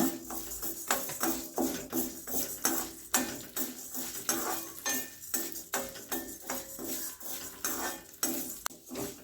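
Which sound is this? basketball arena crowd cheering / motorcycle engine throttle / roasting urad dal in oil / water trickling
roasting urad dal in oil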